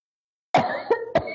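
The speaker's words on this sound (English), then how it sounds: "No more coughing" A person coughs three times in a short burst, close and fairly loud, after a moment of silence.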